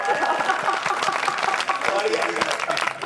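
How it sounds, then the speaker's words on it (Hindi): Applause from the audience at a Hindi comic poetry gathering, a steady round of clapping lasting several seconds with voices talking over it. "ऐसे एक बार जोरदार तालियां हो जाए भाई की बात पे"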